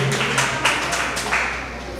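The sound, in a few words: audience applauding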